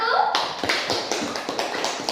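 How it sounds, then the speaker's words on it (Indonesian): Classroom of students clapping for a group that has just presented, a run of quick, fairly even claps after a brief voice at the start. "tepuk tangan untuk kelompok 1"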